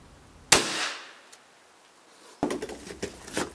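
A shotgun fires at a clay target outdoors. There is one sharp, loud report with a ringing tail, and after a pause come scattered clattering and handling noises.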